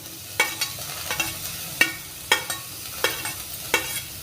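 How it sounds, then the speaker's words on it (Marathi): Carrots, peas and cabbage sautéing in a pan for a ragi vegetable soup, with a low steady sizzle broken by about eight sharp stirring scrapes at uneven intervals. "भाज्या एखादा मिनिट परतून घेऊयात"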